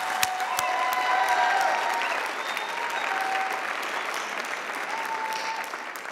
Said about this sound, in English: Would you join me in one round of applause for these graduates